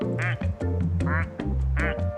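Duck quacking in a video game where duck spawns can be stopped, three loud, clear quacks in a steady rhythm with a faint voice beneath.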